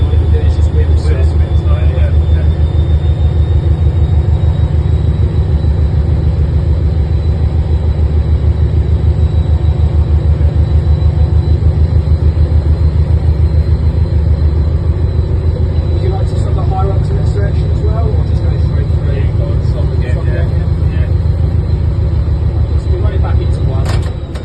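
A diesel locomotive engine drones loud and steady at Spa Valley Railway, a constant heavy rumble heard from inside the cab, with a voice talking over it.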